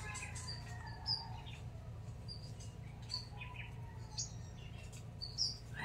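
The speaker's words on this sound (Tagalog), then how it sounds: "Tamsi yata ang tawag nila dito." Sunbirds feeding among a flowering makopa tree on a farm, scattered high thin chirps and short tweets, faint and a little distant over a low background rumble.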